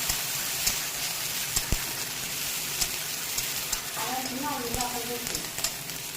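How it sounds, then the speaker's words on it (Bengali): Green chili paste, garlic and ginger paste and garam masala fry in a pan with a moderate, crackling sizzle and occasional stirring scrapes. A voice is briefly heard partway through. "কাঁচা লঙ্কা বাটা, গরম মশলা দিয়ে একটু ভাজা নেব"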